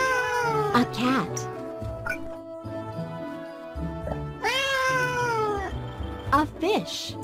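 A domestic cat meows several times: short mews early on, then a long, loud, wavering meow in the middle and more brief cries near the end, all close and set against light background music.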